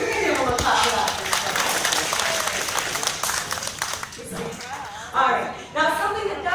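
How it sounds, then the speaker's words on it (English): An audience at a parrot show claps for a parrot solving a puzzle, dense applause running throughout while a presenter talks over it. "You're going to be able to clap for that."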